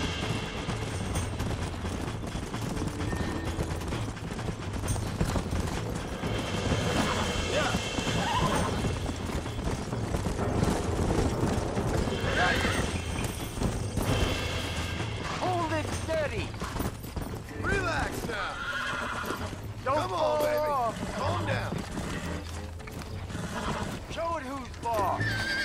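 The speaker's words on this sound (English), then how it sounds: "There's more that goes into horse breaking than just staying on the back of a horse for until it gives up" In the Red Dead Redemption video game, a horse being broken neighs and whinnies repeatedly while its hooves clip-clop and stamp, loud and close, with people talking over much of it.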